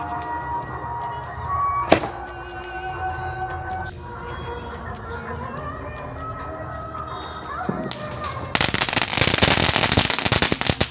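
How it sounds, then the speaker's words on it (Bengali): Firecrackers go off after a Kali puja: one sharp bang early, then a steady background, and finally a loud, dense burst of crackling in the closing seconds. "তো এবার হচ্ছে বাজি ফাটাবে, দেখো তোমরা।"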